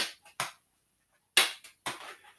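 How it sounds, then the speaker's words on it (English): Hands clap while two juggling balls are tossed and caught: three sharp, close claps with a few softer knocks between them, separated by brief silences and no talk. "So you try to throw the 2 balls and clap and bring them down again."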